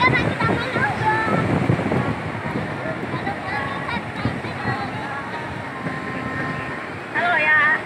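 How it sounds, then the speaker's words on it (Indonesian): Surf washes steadily onto a beach in Gemah, with wind buffeting the microphone and children's voices and chatter mixed in throughout. "Ayo sekarang kita main ombak."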